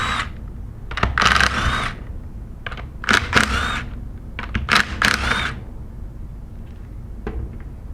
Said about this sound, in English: Today we're going to use a 3/8 drive impact gun for ease of disassembly and reassembly